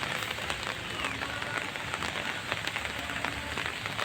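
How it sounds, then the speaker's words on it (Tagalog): Steady rain falling at The Ruins in Bacolod, Negros Occidental, a continuous hiss of drops pattering on surfaces with faint scattered splashes, close and even throughout, with no voices. "Umuulan"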